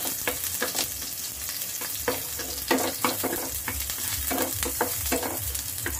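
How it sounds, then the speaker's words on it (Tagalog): Garlic fries in oil in a pan, a close, steady sizzle broken by sharp crackling spatters and pops across the whole stretch, with no talking. "Uy, tumatalsik. Tumatalsik ang ating bawang."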